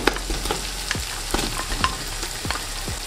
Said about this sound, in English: Now we're gonna throw in our lamb.